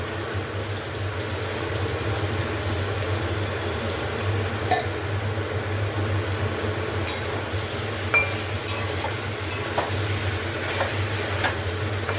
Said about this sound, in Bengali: এখানে আমরা আনাজগুলো দিয়ে দেবো